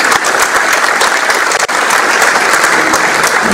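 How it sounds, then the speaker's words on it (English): A civic audience at a State of the City address breaks into loud, steady applause, dense clapping close and continuous throughout without speech. "Give a big round of applause."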